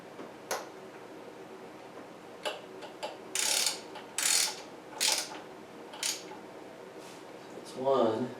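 Ratchet snugging intake manifold bolts on a 305 Chevy Tuned Port Injection engine in an IROC-Z: several short bursts of clicking ratchet strokes spaced a second or so apart, fairly close, with a brief voice near the end.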